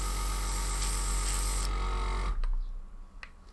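Airbrush spraying primer paint mixed with a little colour, a steady close hiss with compressor hum that stops abruptly partway through, leaving a quiet room with a couple of faint clicks.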